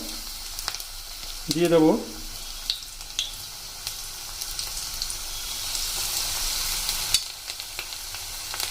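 Onion fritters (piyaji) frying in hot oil at high heat, a steady close sizzle throughout, with a few scraping and stirring sounds and a brief voice speaking near the middle.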